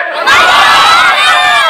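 A large crowd at a Bangladeshi waz mahfil shouts takbir in unison, a loud, sustained roar of many voices rising together and holding for over a second.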